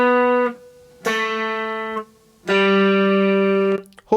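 Guitar notes plucked one at a time with clear silent gaps between them: three ringing, detached notes, each cut off before the next begins, close and alone.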